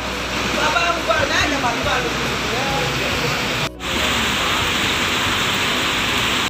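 Steady heavy rain falls at the PT Rapi bus ticket office in Palembang, a loud, even roar that never stops, with faint voices under it.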